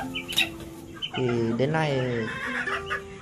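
A nine-month-old bantam chicken clucks close by, including one longer drawn-out call, while someone talks over it.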